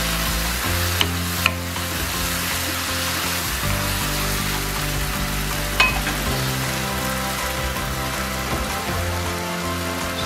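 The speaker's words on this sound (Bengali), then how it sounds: "এবার আমি ভাজা আলুগুলো এতে দিয়ে দেব।" Fried potatoes tipped into a simmering drumstick (sajne data) curry set off steady, dense frying and sizzling that runs the whole time, close and loud, with a few brief clinks near the start and middle and no talking.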